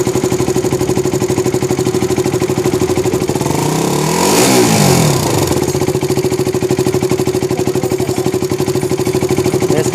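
A KTM RC 200 motorcycle engine runs close by in a steady, buzzing idle, with a brief swell of revving midway before settling back to an even, rapid putter.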